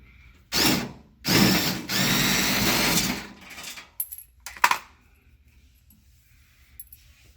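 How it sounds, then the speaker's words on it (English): Screws are backed out of the guard on a GE refrigerator with a power driver in two longer whirring bursts, followed by a few short clicks and taps of parts being handled, with no talking. "After you take off a total of 5 screws, you'll be able to take off this guard"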